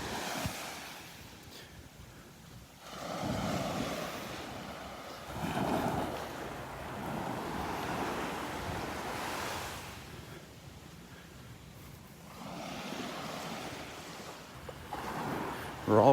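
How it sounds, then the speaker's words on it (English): Gentle surf washes in and recedes in slow swells on a flat-water Gulf beach at Delnor-Wiggins, with wind buffeting the microphone and no voices. "We do have some little waves breaking"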